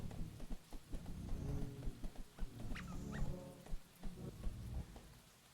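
Dog block in the video game Lucid Blocks: a series of short, close yips and barks scattered over a steady patter of rain, with several barks in irregular bursts.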